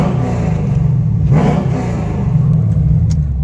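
Engine of a fifth-generation Chevrolet Camaro SS with a V8 and a cam swap planned, idling loudly and rumbling steadily, with one stronger rev swell near the middle. It sounds close and continuous, with no talking.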